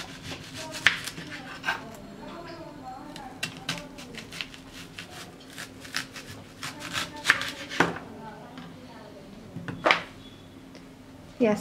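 A knife chops through an onion on a cutting board, slicing it into thick one-inch rings with a series of sharp, irregular cutting thuds and crisp crunches, close and clear.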